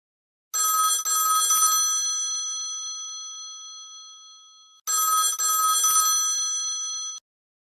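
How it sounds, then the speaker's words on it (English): A telephone bell rings in two long bursts separated by a pause, loud and close, each burst rattling then ringing on before cutting off. "The first sound effect is the phone ringing."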